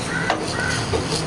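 Grated coconut roasts in coconut oil while being stirred, a brief close scraping and rustling with a light sizzle underneath, steady and moderately loud.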